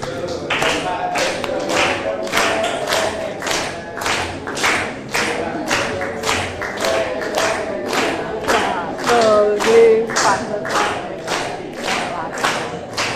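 A classroom group claps hands together in a steady unison rhythm, roughly two claps per second, sharp and evenly spaced for the whole stretch, with faint voices between beats.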